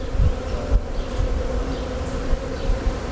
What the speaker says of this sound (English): I also see some male bees.